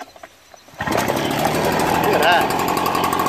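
A small engine catches suddenly after a moment of quiet and settles into a steady, rough, near idle, with someone speaking briefly over it.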